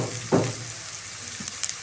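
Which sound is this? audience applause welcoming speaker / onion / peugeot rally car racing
onion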